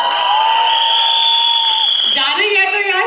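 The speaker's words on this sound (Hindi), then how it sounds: "बट एक बार उसके लिए जोरदार तालियां" Loud applause and cheering from a college auditorium audience at a film promotion event, steady and continuous, with crowd voices mixed in.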